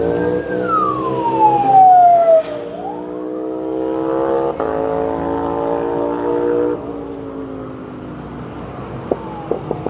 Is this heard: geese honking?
no